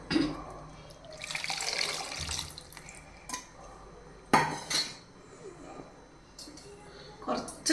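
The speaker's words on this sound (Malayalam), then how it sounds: "കുറച്ചും കൂടെ വെള്ളം വയ്ക്കാം" Water is poured into a pot of Kerala-style country cucumber sambar, with clattering utensils and splashing in short bursts over a kitchen background and some voice.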